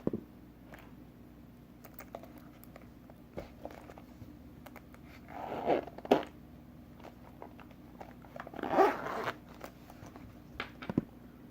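Rustling and clicking as a DJI Mavic Air drone controller is handled in a PSP carrying case, with two louder bursts that may be the case zipper amid scattered small clicks, close and quiet with no talk.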